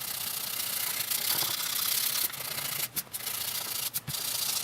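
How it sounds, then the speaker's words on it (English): Sanding epoxy off the top of a Gibson Les Paul Studio guitar body makes a continuous close rasping rub, with a few brief breaks as the sander lifts, alone without talk. "I'm sanding the Z-epoxy out of there, off the top."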